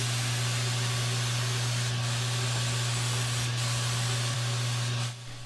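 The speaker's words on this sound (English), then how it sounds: "This pre-catalyzed lacquer is a spray only option" A spray gun hisses continuously, spraying pre-catalyzed lacquer on a king bed frame, with a steady compressor hum underneath, briefly pausing twice before cutting off near the end.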